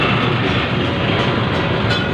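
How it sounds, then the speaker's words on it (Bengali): A Kolkata tram travelling from Dharmatala to Gariahat rumbles loudly and continuously from inside the car, a dense, steady roll of wheels on rails with no pauses. "গড়িয়াহাট যাব ট্রামে করে"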